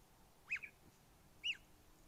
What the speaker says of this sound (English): the year-old kitten with her mom chirping like a bird